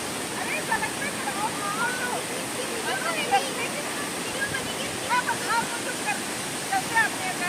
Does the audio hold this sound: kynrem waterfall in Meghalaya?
yes